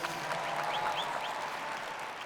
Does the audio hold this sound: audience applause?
yes